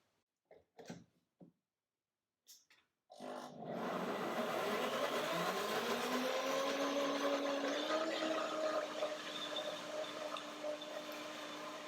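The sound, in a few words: blender mixing cashew yogurt and banana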